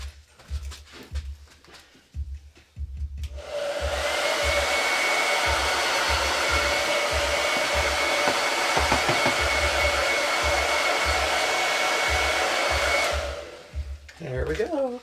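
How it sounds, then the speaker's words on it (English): A hair dryer roars steadily for about ten seconds, starting and stopping abruptly, with rhythmic low thumping underneath and brief clatter before and after. "I'm going to take a hairdryer over here and make a mess."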